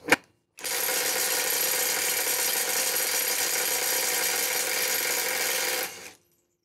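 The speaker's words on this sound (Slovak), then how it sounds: "Je to počuť, je to vidieť, je to aj cítiť, že ten rázový uťahovák má úplne iné rázy." A Parkside Performance PPDSSA 12 A1 cordless 12 V impact wrench with a 4 Ah battery loosens car wheel bolts: one short burst, a pause, then a steady, loud, rattling hammer for about five and a half seconds before it cuts off.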